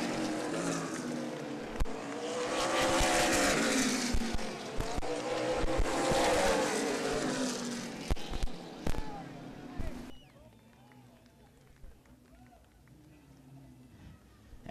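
Race cars roar past on a speedway oval after the checkered flag, loud engine sound swelling and fading as they pass, then dropping to a quieter hum, under a race announcer's commentary.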